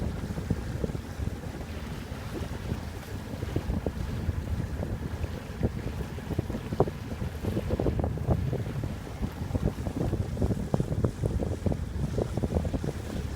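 A sailboat motoring slowly at about four knots through calm water in British Columbia, with steady low engine and hull rumble, light wind buffeting and water wash running continuously without speech.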